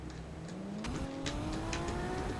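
A BMW engine in the Car For Sale Simulator video game starts and revs, its pitch climbing steadily over a couple of seconds, close and continuous with a few sharp clicks at the start.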